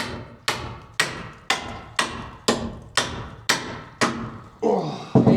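A ball-peen hammer strikes metal while an engine is being removed from a Renault Estafette van. Nine sharp, evenly spaced blows land about two per second, close and loud, followed by a brief scraping clatter.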